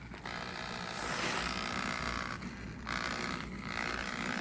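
A model train locomotive runs with its dummy plug rattling against the side, a close whirring and mechanical clatter that briefly dips twice before resuming, with no talking.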